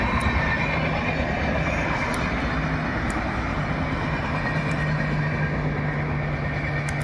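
A train rumbles past in the open beside a roadside patch of flowering tanner's cassia, a steady broadband roar with a low hum holding evenly for several seconds, fairly loud and without pause.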